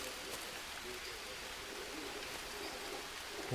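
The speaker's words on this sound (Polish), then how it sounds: "Dziś już nie ma suchych liści, bo pada deszcz" Rain pours steadily in the jungle survival game Green Hell, a soft, even hiss of drops filling the whole stretch at a faint, constant level with no other sounds standing out.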